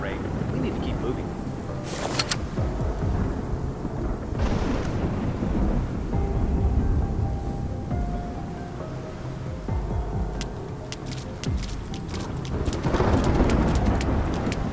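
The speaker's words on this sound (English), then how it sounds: "It's just the rain." Steady rain falls through a dark outdoor scene in the Love and Deepspace video game, with several deep thunder rumbles rolling in and fading, moderately loud and without talking.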